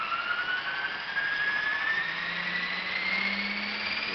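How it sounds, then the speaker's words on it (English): Small RC helicopter motor with flybar paddles, spinning up slowly in a steady rising whine that climbs gradually in pitch and stays fairly constant in loudness, with a low hum underneath. "So just rev it up, real slow."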